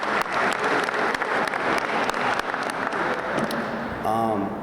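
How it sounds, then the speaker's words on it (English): An audience applauds at a summer program closing ceremony, with steady, loud clapping from a crowd sustained throughout, tapering slightly as a voice begins at the very end. "I think that one person that really needs to be applauded again is Miss Bennett"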